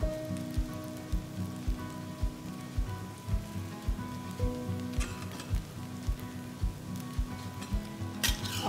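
Perilla leaf and chive pancake batter sizzles in a hot pan with a constant crackling frying hiss and a soft rhythmic ticking, and a brief louder scrape near the end.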